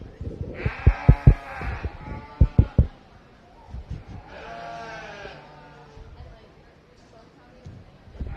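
Breeding ewes bleat at a county fair sheep show, two drawn-out calls rising over someone talking on a loudspeaker, with a few sharp knocks and shuffling from the show ring.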